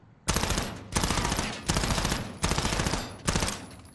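An automatic gun fired in Call of Duty, five loud, close bursts of rapid gunfire, each lasting under a second and separated by short pauses.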